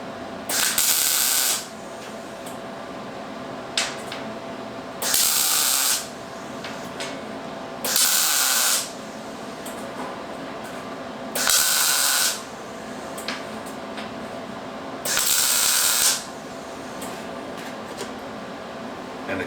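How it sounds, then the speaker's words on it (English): Welder filling a narrow gap along a metal seam, heard as five evenly spaced bursts of loud crackling hiss, each about a second long, over a steady background hum with no talk. "I just want to kind of fill that valley in with weld."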